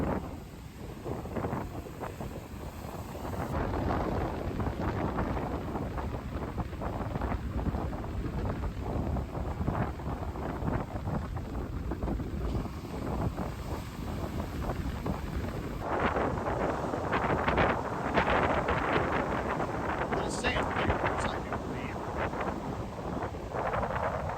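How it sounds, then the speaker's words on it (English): Strong wind buffets the microphone on a rainy, sunny day in a Florida park, a continuous loud roar with gusting surges and no talk. "it's also windy as can be"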